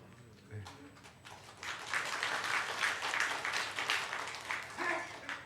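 A church congregation's applause swells up after a moment of quiet, a dense wash of clapping that holds steady for a few seconds, with a voice heard faintly before and near the end.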